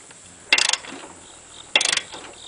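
Two quick ratcheting bursts, each a short run of clicks, come from a wrench snugging wheel bolts during a rear tire swap on a John Deere garden tractor, close and fairly quiet with a pause between them.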